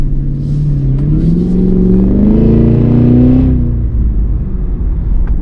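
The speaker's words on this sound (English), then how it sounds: "really get the engine super loud with all the insane pops, burbles that this thing can do" A 2024 Cadillac Escalade V's engine revs up loudly nearby, its deep rumble rising in pitch and holding before dropping back to a throaty idle.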